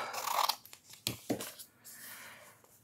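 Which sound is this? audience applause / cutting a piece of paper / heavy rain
cutting a piece of paper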